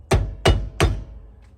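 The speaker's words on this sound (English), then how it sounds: "taps with a hammer on that flat spot that's probably already there, it'll come right out" Three sharp, evenly spaced hammer taps on a wheel bearing dust cap, close and loud, each a short metallic thunk with a quick decay and no voices.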